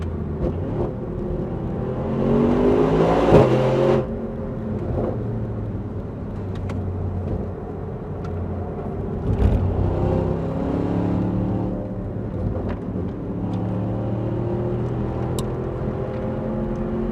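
A Mercedes-AMG car works through a curve at Indianapolis Motor Speedway, its engine a steady droning whir that swells and eases with throttle, heard from inside the cabin with no talking.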